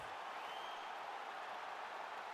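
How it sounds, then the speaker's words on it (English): A crowd applauding and cheering between rounds of a bout in the EA Sports UFC 5 video game, a steady, dense wash of clapping and crowd noise that holds evenly throughout, no speech. "So the crowd voicing its appreciation after that round."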